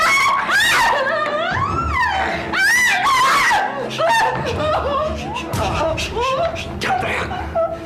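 In an Indonesian drama scene, a woman screams and wails loudly in repeated, rising cries that run throughout, mixed with sobbing and whimpering sounds.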